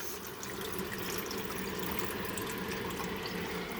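Hot water runs steadily from a tap while a brush is rinsed under it, a soft, even splashing stream with no talking.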